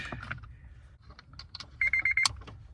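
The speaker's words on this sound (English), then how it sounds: "There's our beep back." A short series of electronic beeps from a 2003 Honda Element's immobilizer, with faint clicks and handling noise before it; the tones repeat several times near the end.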